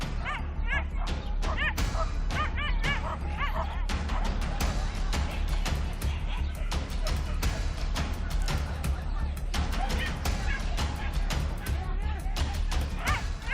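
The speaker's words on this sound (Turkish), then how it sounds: "Köpekler oradan koşuyorlar." Hunting dogs chasing wild pigs in the Sumatran forest bark, yip and whimper continuously and close up, amid rustling and crashing through the undergrowth while people shout.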